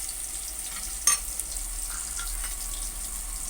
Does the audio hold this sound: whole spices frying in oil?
yes